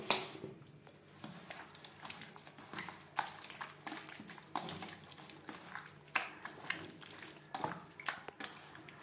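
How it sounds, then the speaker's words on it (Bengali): Chicken pieces being mixed by hand with red chili powder, raw mustard oil and spices in a bowl, a quiet run of soft squelching, rubbing and light clinks against the dish, steady and close with no voices. "সমস্ত উপকরণ বেশ ভালো করে মেখে নেব।"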